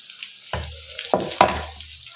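Garlic drops into hot oil for festival prasada cooking, with a continuous soft sizzle and three sharp spattering bursts as pieces hit the pan, close up.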